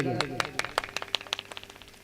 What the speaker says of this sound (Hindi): सभी लोग जोरदार तालियां बजाएं दादाजी के लिए।